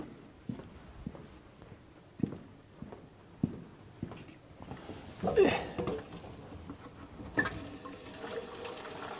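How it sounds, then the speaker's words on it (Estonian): A bucket is filled with water from a tap: a series of sharp knocks and clanks comes first, then a steady, faint hiss of running water flowing into the pail. "Siin on üks pang, ma võtan siia pange natukene vett."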